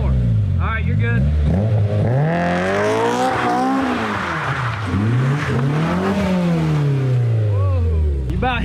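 A rebuilt Honda S2000 drifts on a gravel lot, its engine revving loudly and rising and falling in long swoops, with tire noise and a voice calling out over it.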